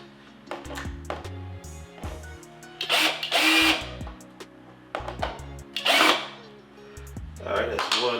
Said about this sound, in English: I'll use my drill here, trusty handy drill,